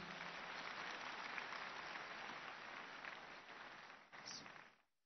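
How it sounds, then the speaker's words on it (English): Congregation clapping at a Sunday church service, a steady, dense wash of applause that holds for several seconds, briefly dips, then swells once more before stopping abruptly. "let us clap for Jesus"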